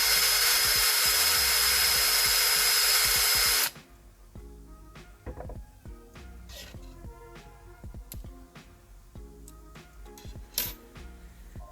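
A power drill bores through metal for Datsun 510 axle tubes, a loud steady drilling whine for nearly four seconds that then cuts off, followed by scattered clinks and handling noises of shavings and tools.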